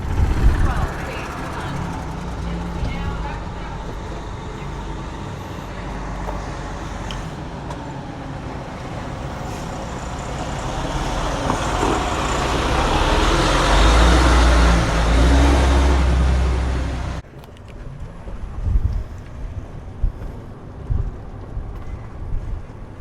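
Cars, golf carts and construction trucks drive around a new residential area in The Villages, Florida, a steady rumble of passing traffic that swells louder before cutting off, with a person talking over it.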